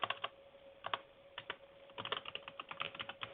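Code being typed on a computer keyboard in quick, irregular bursts of clicking keystrokes with short pauses, close and fairly quiet, no talking.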